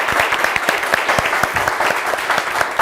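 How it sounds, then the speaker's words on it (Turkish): Loud, close applause from a studio audience on a Turkish TV word-game show, many hands clapping densely and evenly for about three seconds without speech. "kocaman alkış daha lütfen"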